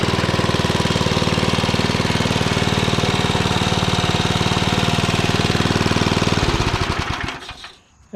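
An old estate-sale engine, likely from a rototiller or snowblower, runs loud and steady with a rapid knocking chug and a smoking muffler, then cuts out and sputters to a stop near the end.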